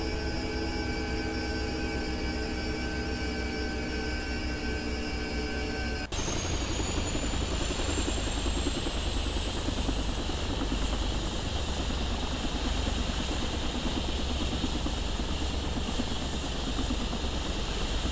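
Bell 412 helicopter engine in a flight simulator sound mod, a steady droning whine with tonal hum that abruptly shifts to a louder, broader rushing roar partway through, sustained and unbroken, no talk.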